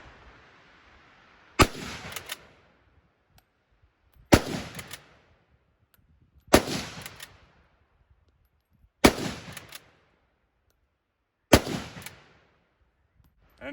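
A Swiss K31 bolt-action rifle fires GP11 7.5 Swiss rounds, five loud, sharp shots spaced about two and a half seconds apart, each trailing off in a brief outdoor echo with no talking.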